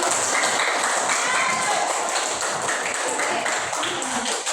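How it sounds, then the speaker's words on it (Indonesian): Students in a classroom clap together in a steady, dense patter that carries through the whole stretch, with voices mixed in underneath. "Tepuk tangan dulu dong"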